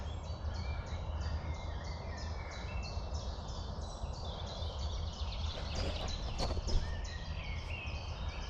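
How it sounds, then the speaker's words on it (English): Birds singing in sunny early-morning woodland, a rapid repeated chirping song over steady background hiss, faint and distant with no talk. "listen to the birds."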